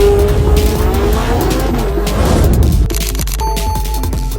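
A Koenigsegg Sadair hypercar, a track-ready street-legal car with a 1,600-horsepower twin-turbo V8 running on E85, drives hard. The engine is loud and close, its pitch sweeping up and down, with tire noise and no talk.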